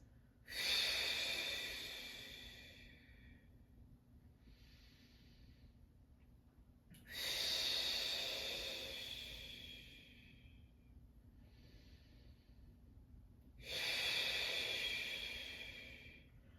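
Slow, deep breaths during a pelvic alignment exercise: three long airy exhales, each swelling then fading over several seconds, with quiet pauses between them, close and alone without talk.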